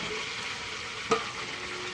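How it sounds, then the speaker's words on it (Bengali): Meat sizzling steadily in a large pot of biryani for a wedding feast, a continuous even fry with one brief clink partway through. "আমরা এখন ভেজে ভেজে এখানে আলাদা পাত্রে রাখবো।"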